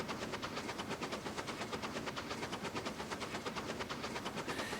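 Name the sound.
train running on rails in video game Transport Fever 2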